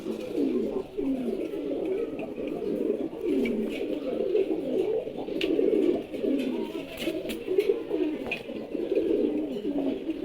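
Male pigeons coo continuously, with layered, rolling calls pulsing in a steady rhythm close by, as several birds overlap throughout.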